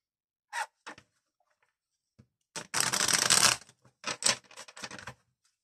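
Tarot cards are shuffled by hand in several quick bursts of crisp riffling and flicking, close to the microphone, with short silent gaps between bursts.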